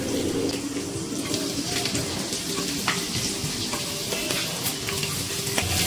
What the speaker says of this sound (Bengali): রসুনগুলো ভেজে নিচ্ছি।